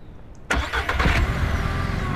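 A vehicle engine cranks and starts in the video game Ranch Simulator, a sudden catch followed by a few uneven revs that settle into a steady low idle, close and clear with no talk.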